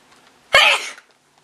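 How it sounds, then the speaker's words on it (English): A single sharp sneeze from a woman indoors, one loud close burst of about half a second, with near silence before and after. "Oh, I have to sneeze."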